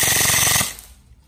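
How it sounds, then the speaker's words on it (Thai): A rapid full-auto burst from an E&C 308 airsoft BB gun upgraded past 500 fps with a 6.03 tight-bore 407 mm barrel: about a dozen sharp, evenly spaced loud cracks in half a second, then quiet. "อันนี้ก็คือรีวิวกลุ่มกระสุนปืน ENC 308นะครับ"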